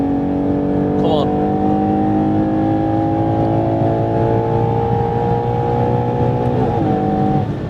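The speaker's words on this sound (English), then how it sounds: "Let's give it full throttle here." A 2025 Ferrari Purosangue engine roars steadily at high revs under full-throttle acceleration on the Autobahn, loud and continuous, with a brief gear-change blip and wind noise.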